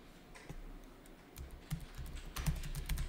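Quiet, close computer keyboard typing: scattered single key clicks at first, then quicker bursts of taps as numbers and Enter are pressed, with no speech.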